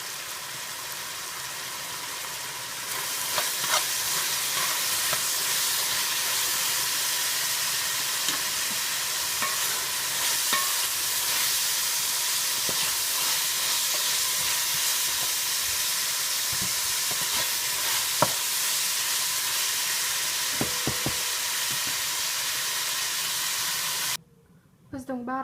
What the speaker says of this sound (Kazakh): Ет қуырылып жатыр.